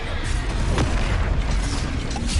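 A booming Confringo spell explosion in the video game Hogwarts Legacy, a loud, dense roar of blasts and rumbling bursts filling the whole moment with no clear pause.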